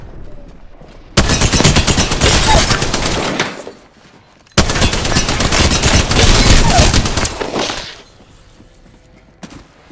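Two long bursts of rapid automatic gunfire in the Apex Legends battle royale game, each lasting about three seconds. The volleys are loud and close, with a quiet gap between them and a faint sound near the end.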